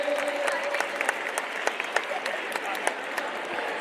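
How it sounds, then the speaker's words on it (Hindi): Crowd applause for young athletes at a sports event, a continuous bright rush of many hands clapping together, with a few louder individual claps popping out near the microphone. "एक बार मेरे युवा खिलाड़ियों के लिए जोरदार तालियां बजा दीजिए"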